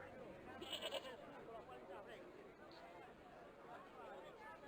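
Goat in Broken Sword 2 bleating briefly and faintly, a short wavering call early on over a low background of babbling chatter and speech noise.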